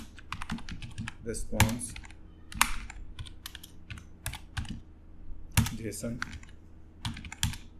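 Laravel and jQuery code typed on a computer keyboard: quick, irregular key clicks and heavier thumps from spacebar or enter, close up, while someone talks quietly in Hindi between and over the typing.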